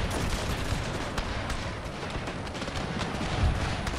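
Dense, continuous musket and pistol gunfire from a Thirty Years' War battle in a Total War video game, with overlapping volleys and sharp shots cracking steadily throughout, no talk.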